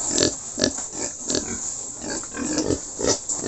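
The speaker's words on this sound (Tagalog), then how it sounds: "magkatabi na po sila ng kanya pong mother pig" A young pig lies beside its sow on a farm pen, with repeated short grunts and snorts at a steady close range and no talking.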